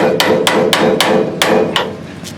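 Hammer striking a pitman arm on a Ford Bronco steering linkage to knock it loose, seven sharp metallic blows in an uneven rhythm, loud and close over faint background noise.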